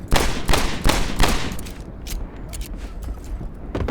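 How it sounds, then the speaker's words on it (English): Several loud, sharp gunshot-like blasts in quick succession, echoing and fading, followed by scattered softer pops under a rumbling background. "I don't even know if that's how the guns actually sound."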